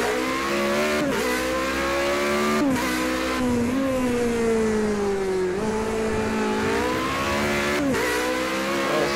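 A race car engine roars on track in Project CARS 2, loud and continuous, its pitch rising through gears with brief drops at each shift, heard alone without talk.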